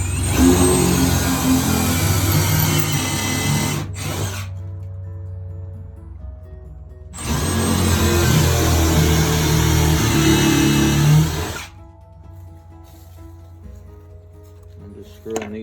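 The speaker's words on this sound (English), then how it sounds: "I'm just screwing these in from the inside." A power drill drives screws from the inside into a camper build, two loud sustained whirring bursts of about four seconds each separated by quiet pauses, close by.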